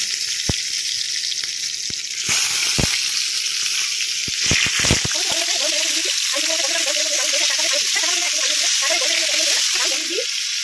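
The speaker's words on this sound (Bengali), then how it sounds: "নুন মাখানো পটলগুলোকে এক এক করে ছেড়ে দেবো" Salted pointed gourd pieces (potol) dropped into hot oil with nigella seeds, setting off a loud, continuous close sizzle after a few sharp clatters as they go in, with a fainter tonal hum running through the latter half.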